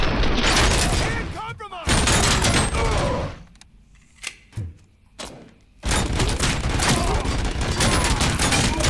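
Loud bursts of rapid gunfire fill a RoboCop: Rogue City firefight on PS5, dense shooting broken by a quieter stretch of scattered single shots and thuds before heavy fire resumes; a voice talks over it.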